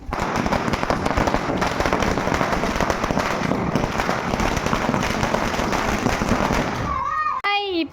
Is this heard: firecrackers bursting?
yes